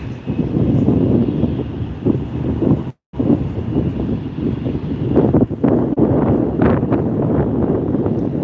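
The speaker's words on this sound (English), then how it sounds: "It's also pretty windy here today at Santa Ana." Steady wind buffeting the microphone at Santa Ana airport, a loud low rumbling roar with gusty surges and a brief dropout partway through; no voices.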